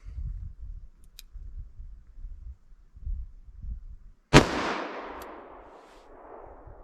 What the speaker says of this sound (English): Let's try our 357 Magnum now.